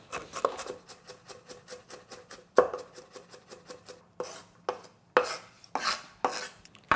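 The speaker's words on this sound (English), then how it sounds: "today I feel like using my knife and just mince" Knife mincing ginger on a cutting board, a rapid run of regular sharp chops followed by a few slower, heavier scraping strokes, close and crisp with no talk.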